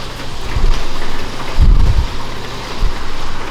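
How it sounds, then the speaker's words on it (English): Rain falls steadily outside a small gym, a constant close hiss with low rumbling thumps swelling midway, and no one speaking. "It's like raining outside."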